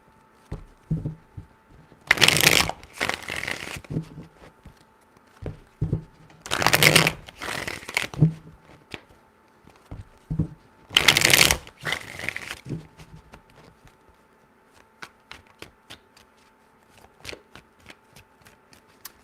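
Tarot cards being shuffled in three distinct bursts of riffling, each about a second and a half long, separated by quieter pauses with small taps and handling noises, close and fairly loud.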